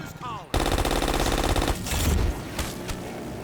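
Rapid machine gun fire in a video game, a loud dense burst of rounds that runs about a second, then scattered shots and impacts trailing off.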